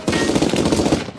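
Loud, rapid burst of machine gun fire from a mafia revenge film, a tight rattle of closely spaced shots lasting about a second before cutting off.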